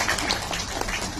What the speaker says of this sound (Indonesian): Ya, tepuk tangan tuh ada semuanya.